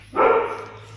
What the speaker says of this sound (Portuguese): E tem um cachorro latindo no fundo do vídeo.